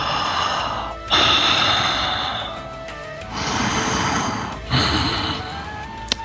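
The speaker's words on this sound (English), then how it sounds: "After just a little bit of breathing," Slow, deliberate deep breathing during a guided healing meditation, with several long audible inhales and exhales, breathy and close, with no speech.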